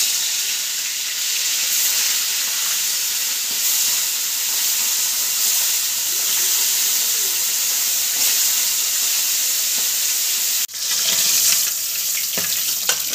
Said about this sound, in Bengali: এই যে এগুলো ভেজে নেবে মা, কাঁটাগুলো ভেজে নিই